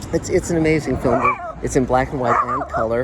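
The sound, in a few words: dogs barking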